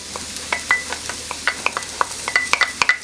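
Garlic is stirred into a pan of sizzling mushrooms, with a spoon scraping and clicking against the pan in quick, irregular strokes over a soft, close frying crackle.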